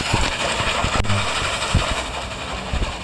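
A train engine rumbles steadily with clanking and a short hiss, from the Roblox game Dead Rails, sounding like a game soundtrack rather than a real recording.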